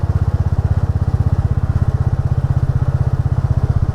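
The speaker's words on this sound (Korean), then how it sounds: "비록 제 클래식 450의 배기음이 그렇게 큰 편은 아니지만" A Royal Enfield Classic 450 motorcycle rides slowly, its exhaust a steady, close, low thumping pulse that keeps an even rhythm throughout with no voices.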